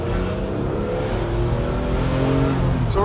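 A BMW M3 E46 engine pulls hard on a test drive, a loud continuous roar rising in pitch with a brief squeal at the end.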